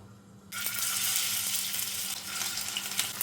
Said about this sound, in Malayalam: ഇനി എണ്ണ നന്നായിട്ട് ചൂടായതിന് ശേഷം നമുക്ക് ഈ ചിക്കൻ എണ്ണയിലേക്ക് വെച്ച് കൊടുക്കാം